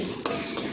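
Whole spices such as large fennel seeds and cinnamon are stirred while they dry-roast in a pan, giving a brief soft scraping and faint sizzle, heard quietly up close.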